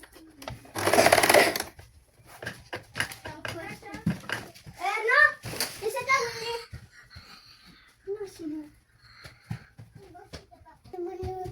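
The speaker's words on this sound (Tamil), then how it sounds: "இப்போ இதிலே நான் படிமான தையல் போட போகிறேன்" A sewing machine gives a brief, loud burst of stitching on a princess-cut saree blouse seam, followed by a child's chatter and other voices over light handling noises.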